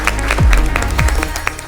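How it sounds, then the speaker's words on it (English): An audience at a televised school spelling bee applauds loudly and steadily, a dense wash of clapping throughout with deep thumping beats underneath. "Please give him a huge round of applause."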